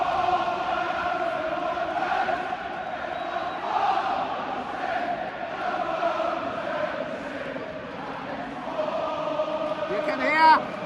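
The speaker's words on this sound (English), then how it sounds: "You can hear the crowd." A large football stadium crowd at a Wolves versus West Ham match roars and chants continuously at a distance, a steady swelling wash of voices with a sharp whistle near the end.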